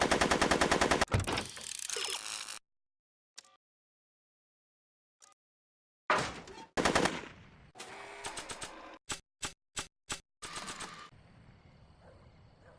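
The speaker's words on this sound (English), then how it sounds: "Are you shooting at me?" Gunfire in the video game Back to the Future: The Game comes as loud, rapid automatic bursts, then falls silent, then returns as single sharp shots spaced close together near the listener.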